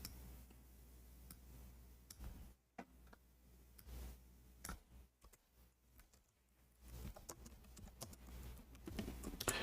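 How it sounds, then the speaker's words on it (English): Someone types on a computer keyboard: faint, scattered key clicks in short irregular bursts against a quiet room background. "If we type here"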